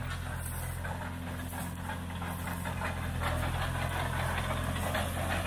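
A New Holland 3630 Special Edition tractor engine idles steadily nearby, a continuous low diesel rumble with a throbbing vibration and no break.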